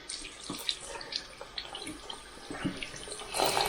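Hot water runs from a tap in a home garage workshop while hands are cleaned, a steady splashing hiss with small spatters and rises in flow, fairly close and without talk.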